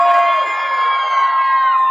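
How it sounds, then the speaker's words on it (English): Crowd cheering and whooping from a cruise ship show audience, loud and close, with voices shouting over one another and a sustained din lasting about two seconds; little distinct clapping comes through. "Give yourself a big round of applause."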